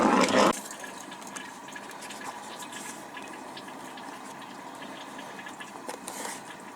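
Water runs steadily into an RV toilet with a soft hiss and trickle, beginning after a brief louder gush, continuing at an even level throughout.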